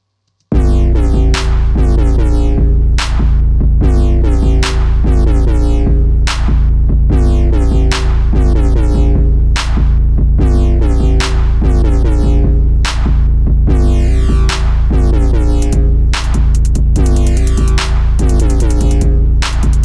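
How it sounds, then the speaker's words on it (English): A loud, steady drum pattern with heavy low kicks and crisp repeated hits, looping in a tight rhythm with no voices. "So what I did was I decided to create a second part of the drums"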